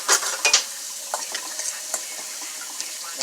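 Parmesan coating mixture being stirred for fries, a few quick scraping clinks and rattles near at hand at the start, then lighter soft scraping taps.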